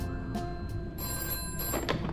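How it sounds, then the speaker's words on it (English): An in-game telephone rings in a Five Nights at Freddy's fan game set in a pizzeria, a bright electronic bell trill that repeats in short bursts, clear and close with no talk. "we get this phone call"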